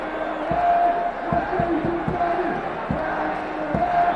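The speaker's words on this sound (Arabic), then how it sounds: "شوف الجماهير تردد وينتظرون الهدف الثاني" Football fans chant in the stands at Duhok's stadium during an Iraqi Stars League match, a steady distant crowd chant with rhythmic drum-like beats and a commentator talking over it.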